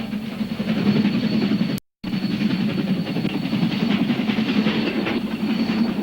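A train rolls steadily past a deserted spot on a New Zealand railway, giving a loud, continuous rumble with faint clatter that holds for the whole stretch, broken only by one very short gap.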